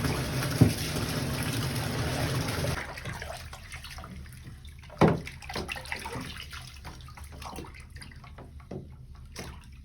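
A child washes up at a tap, with water running steadily for a few seconds and then shutting off, followed by scattered splashes, drips and a sharp knock in a small room.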